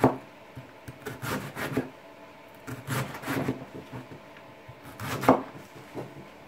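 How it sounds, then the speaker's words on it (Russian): A knife shreds cabbage in quick bursts of crisp, rhythmic chopping against a board, with short pauses between runs. The sound is close and clear, with no talking. "Нашинкую сейчас всю-всю капусту."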